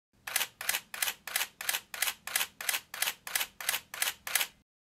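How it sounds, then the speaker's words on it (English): A Nikon D3000 digital SLR fires its shutter in continuous shooting mode, a dozen crisp, evenly spaced mechanical clacks at about three per second, close and alone, ending in silence. "We'll have a listen to the shutter now."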